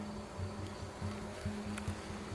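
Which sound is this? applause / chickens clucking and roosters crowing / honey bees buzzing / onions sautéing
honey bees buzzing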